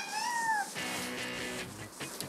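A cat gives two short, close, rising-then-falling meows at the start, followed by a softer noisy background with faint scattered sounds.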